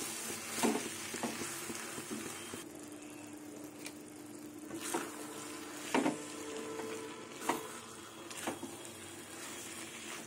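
Fried chicken and cabbage are stirred in a frying pan, a quiet steady sizzle broken by several sharper scraping knocks of the utensil against the pan.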